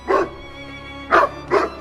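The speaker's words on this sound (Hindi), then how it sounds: "तभी वहाँ पे एक कुत्ता आता है और वो दोनों कौवों पे हमला कर देता है" A dog barks three times in a story sound effect where it attacks two crows. The barks are sharp, close and loud: one, then a pause, then two in quick succession.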